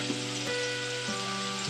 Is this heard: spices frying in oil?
yes